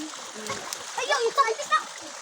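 Cold water splashes and gurgles in a flowing stream where people bathe, with a few distinct splashes standing out over the steady rush, and faint voices nearby.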